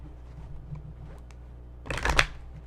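Tarot cards shuffled during a reading, a brief close riffling flutter lasting about half a second after a quiet stretch with faint handling sounds.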